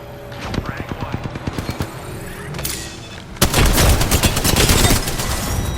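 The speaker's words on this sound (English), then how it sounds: "we're going to begin with the LMG known as the Spitfire" Spitfire light machine gun from Apex Legends firing rapid sustained bursts, a steady rattling stream that gives way to a louder, denser barrage with booming impacts, loud and close, with no talking.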